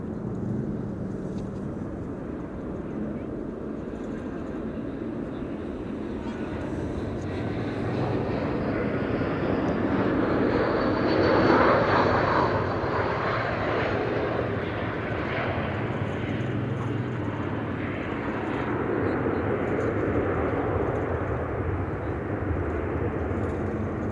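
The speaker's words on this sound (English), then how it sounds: "EasyJet flight 27914 A319 arriving from Corfu." A 17-year-old Austrian-registered EasyJet Airbus A319 arriving at Amsterdam Schiphol from Corfu, its jet engines a broad, steady roar that swells toward a peak midway and then holds as the aircraft passes.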